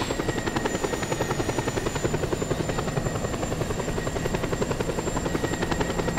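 Helicopter flying in the video game Just Cause 2, a loud, steady rotor chop with rapid even blade pulses and a whining turbine tone, heard alone and close throughout.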